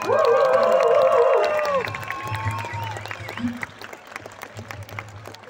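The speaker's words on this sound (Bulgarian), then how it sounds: "Аплодисменти за тях!" Applause and cheering from a crowd at a school graduation send-off, loud at first with shouts and a voice over it, then thinning to scattered clapping and low murmur.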